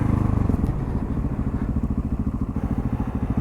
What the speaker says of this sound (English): So yeah, that's a sick wheelie I did.